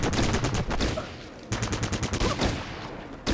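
Rapid bursts of gunfire from a firing line of squad members in the video game Fallout Tactics, volleys overlapping in dense, continuous clatter with a brief lull midway before firing resumes.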